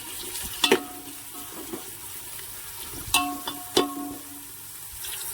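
Onion fries in a pan until browned, a soft steady sizzle broken by a few sharp scraping clatters of stirring.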